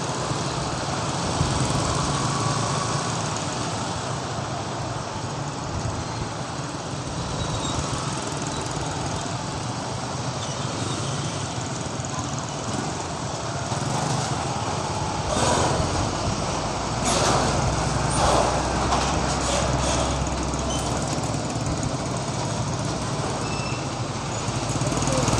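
Steady engine rumble from traffic crawling through an afternoon jam, heard while riding a motorbike, with a continuous broad roar of nearby motors and occasional louder passing vehicles and rattles.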